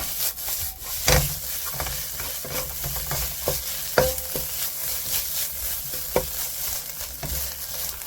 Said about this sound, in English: Keep stirring, high heat.